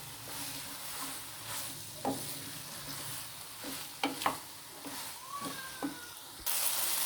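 Okra (bhindi) frying in a hot pan, a constant soft sizzle with scattered scrapes and clinks as it is stirred, plus a sudden louder hiss near the end, no talking.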